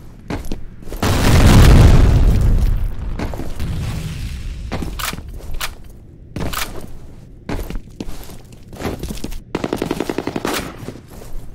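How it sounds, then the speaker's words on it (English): Grenade blast in the online shooter F.E.A.R. Combat, a loud booming explosion followed by bursts of automatic rifle fire and scattered gunshots in a close, busy firefight. "Grenade out!"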